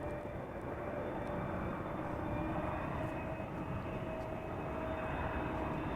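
An Air Canada Boeing 777 airliner touches down on arrival at Amsterdam Schiphol Airport, heard as a steady, broad, distant jet roar that holds evenly through the whole stretch, with no voices.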